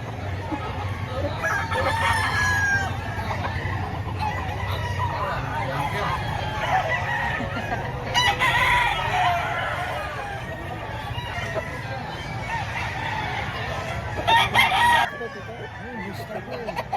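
A rooster crows amid a busy outdoor chicken market in Lipa, Batangas, with people talking nearby and a steady low hum underneath; another crow rises near the end.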